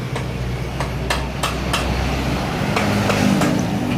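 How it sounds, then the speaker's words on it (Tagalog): Motorcycle engine crankcase being split apart during an overhaul after its bolts are removed, with a handful of sharp metallic knocks and taps spaced irregularly over a low steady hum. "tatanggalin yung crankcase bolt para mapag-iwalay natin to"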